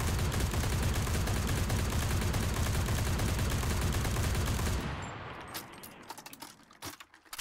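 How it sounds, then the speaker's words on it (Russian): A Lewis bipod machine gun in the shooter game Enlisted fires a long, dense automatic burst at a target for about five seconds, loud and close, then stops, leaving scattered clicks and mechanical handling noises. "я буду стрелять вон в ту мишень бедолажную, которая постоянно получает от меня, без контроля вертикальной отдачи"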